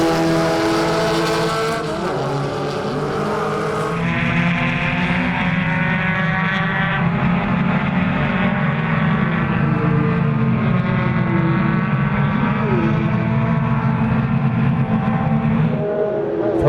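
Volkswagen Formula Vee race cars racing on a circuit, a loud continuous multi-engine drone with pitch rising and falling as cars shift and pass, steady and close throughout.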